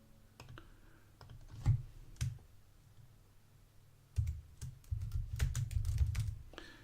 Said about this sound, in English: I'm going to click save. I'm going to click next.